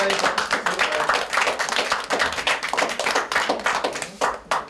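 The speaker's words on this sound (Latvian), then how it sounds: "Aplausos no manis." A small group claps in a women's prison, a close burst of dense, irregular handclaps that keeps going steadily and tapers slightly at the end.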